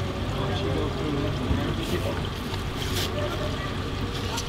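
Clean water pours and splashes steadily from emptied RV holding tanks and flushed hoses at a campground teardown, a continuous broadband rush, fairly loud and close, with faint talk underneath.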